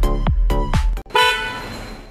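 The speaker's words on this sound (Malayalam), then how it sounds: "അതുപോലെ നല്ലൊരു ഹോൺ നമ്മളിതിൽ സെറ്റ് ചെയ്തു." A newly installed horn on a Tata Nexon XM(S) gives three short, loud honks in quick succession, then one longer blast that fades out, all close by with no talking.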